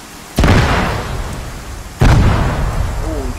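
Two heavy explosive charges detonate about a second and a half apart, each a sudden loud boom that rolls off into a long decaying rumble, with a brief voice at the very end.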